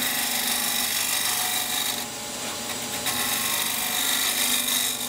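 A 5/8-inch bowl gouge with swept-back wings slices shavings from wood spinning on a lathe, turning a sword. It gives a steady, loud, continuous rasping hiss that barely changes across the whole stretch, with no voices.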